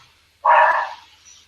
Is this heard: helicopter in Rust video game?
no